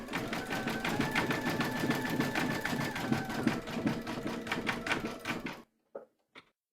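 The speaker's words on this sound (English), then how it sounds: "Pop your hoop into your machine and stitch round number 8. Now it's going to zigzag along here" An embroidery machine zigzag stitches to join two segments of a faux fur coaster held in a hoop, producing a steady rapid clatter for several seconds before stopping, followed by a few faint clicks.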